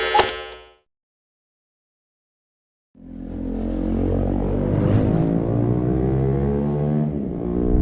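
A KTM 790 motorcycle engine runs while riding, a loud close drone with rising revs that starts after a short silence and holds steady to the end, preceded by a brief tonal burst.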